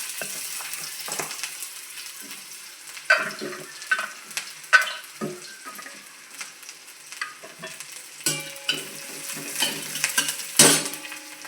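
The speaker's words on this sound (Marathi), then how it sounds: "कढईमध्ये चार जिरे मोहरी टाकून कांदा टाकून परतून घ्यायचं" Onion sautéing with cumin and mustard seeds in a kadhai, a soft continuous sizzle broken by repeated scraping stirs of a spoon against the pan.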